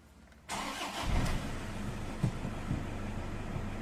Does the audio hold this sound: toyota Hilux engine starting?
yes